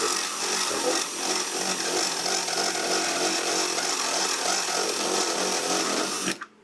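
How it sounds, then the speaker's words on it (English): A power drill fitted with a 3/8 inch bit enlarges a hole, running as a steady, loud, close whine with no break for about six seconds, then stopping abruptly. "I'm going to take the 3/8 inch bit and just try and hone that out a little bit."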